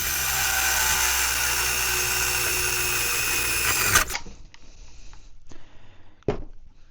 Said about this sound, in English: We're just going to drill out this hole.